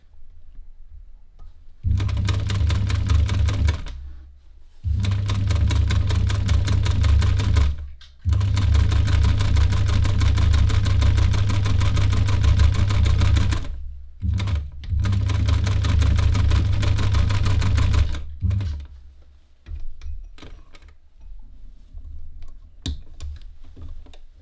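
A 70-year-old sewing machine stitching a blouse, running in several long, steady bursts with brief stops between, loud and close, then trailing off into quieter handling noises.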